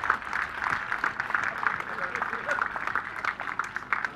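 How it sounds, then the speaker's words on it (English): Applause breaks out at a chilli eating contest at the Devon Fire & Spice Festival, moderate clapping from a modest outdoor audience running steadily beneath a host talking over a microphone. "please give Ross a big round of applause."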